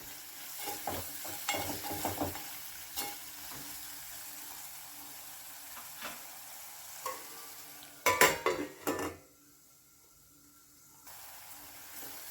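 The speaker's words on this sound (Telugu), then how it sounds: "ఇప్పుడు ఈ ఆనియన్స్లో కాస్త సాల్ట్ వేసుకొని కలిపి మూత పెట్టి ఒక 5 నిమిషాలు వేగనివ్వచ్చు" Onions with salt frying in a pan, stirred at first with soft scraping and sizzle, then a brief louder clatter as the lid goes on, leaving a muffled quiet hiss under the cover.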